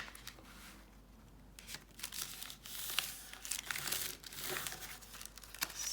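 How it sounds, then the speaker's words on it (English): Coffee-dyed paper is trimmed while making a small journal booklet, giving soft, close crinkling and snipping rustles that come in irregular bursts and grow a little louder toward the end. "So I'll just trim that bit off."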